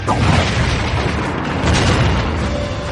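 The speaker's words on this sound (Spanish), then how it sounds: "Este meteorito de hierro de casi 1 tonelada vaporiza la zona próxima al lugar del impacto" A deep, roaring boom from a nearly one-tonne iron meteorite striking the ground, used as a documentary sound effect, rumbles continuously and loudly for about three seconds with no voices.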